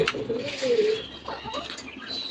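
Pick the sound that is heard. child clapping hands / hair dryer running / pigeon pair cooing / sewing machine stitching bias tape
pigeon pair cooing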